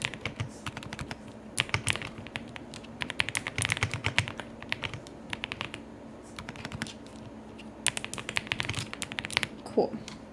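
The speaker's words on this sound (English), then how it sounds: "And just start typing away." Steady typing on a computer keyboard while working in Adobe Illustrator's type tools, a dense run of quick clicky keystrokes with brief pauses, close and fairly quiet, with no talking.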